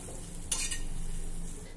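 Cluster beans tossed on a hot iron tawa with the flame switched off: one brief scraping stir near the start, then a faint, steady low sizzle with no talking.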